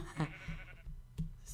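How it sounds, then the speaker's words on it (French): Sheep bleating in Minecraft, a few short blocky bleats close by and fairly clear, spaced apart with quiet gaps between them. "On dirait des yétis, les moutons comme ça."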